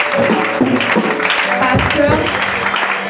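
A congregation at a Father's Day church service acclaims the Lord with dense clapping and shouted cheers, a loud, continuous crowd roar filling the hall throughout.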